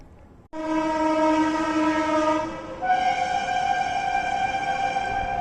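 A loud train horn blows steadily for several seconds, shifting pitch midway, with the rumble of a passing train underneath.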